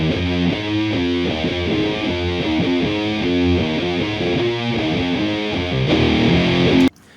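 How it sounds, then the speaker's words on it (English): A doom metal mix plays its inside guitar track, heavily distorted rhythm guitars grinding out a slow riff in first position. The sound is loud, dense and sustained, then cuts off abruptly near the end. "the inside guitars play the riff in the first position"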